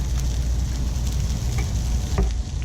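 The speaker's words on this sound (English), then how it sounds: "first we're going to stir fry our peppers and scallions with a little bit of salt" Peppers and scallions with salt and black pepper sizzle steadily in a wok over medium heat, a constant close frying hiss with faint stirring ticks.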